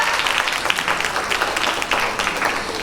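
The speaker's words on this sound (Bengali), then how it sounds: "জোরে হাততালি হয়ে যা।" A crowd at a children's dance performance claps loudly and continuously, a dense patter of many hands close by throughout.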